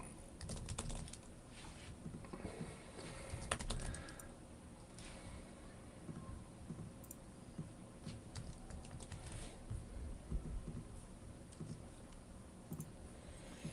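Rapid, uneven clicking and tapping at a computer while picking a fantasy football team in a hurry, close and fairly steady, with a dense clatter of keys or mouse buttons throughout and no talking.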